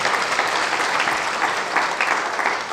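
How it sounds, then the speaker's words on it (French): Loud, steady applause fills a hall from an audience at an honorary diploma ceremony for accountancy professors in Senegal, dense, continuous clapping that holds throughout with no voices over it. "Applaudissez avant que je ne dise son nom."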